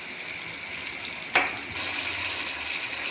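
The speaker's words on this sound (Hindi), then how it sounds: "जी अब हम डालेंगे इसमें 1 गिलास पानी।" A glass of water poured into chicken cooking in a pan with fenugreek and coriander: a steady sizzling hiss throughout, a brief splash-like burst partway through, then the sizzle settles again without talk.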